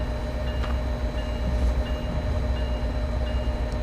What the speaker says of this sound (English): See, those locos are ready to go.